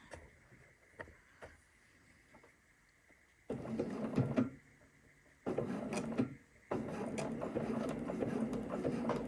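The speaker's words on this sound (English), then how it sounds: "I'm just going to start sewing." A sewing machine stitches a zigzag seam, beginning with faint ticks and then running in steady bursts that stop and restart, close by with no talking.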